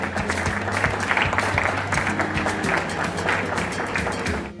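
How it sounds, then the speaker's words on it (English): Audience applause at a company event celebrating a silicon carbide semiconductor manufacturer in Mohali, a dense, steady clapping crowd heard over a low background hum, sustained throughout. "can we please have a huge round of applause for this moment?"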